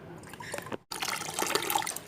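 Tap water runs into a plastic bottle, a steady liquid splash and trickle with a short break partway through, then continuing fairly close and loud.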